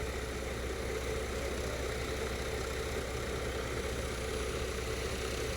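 A Kobelco excavator engine idles steadily and close, a continuous low rumbling drone with an even, unchanging level and no voices over it.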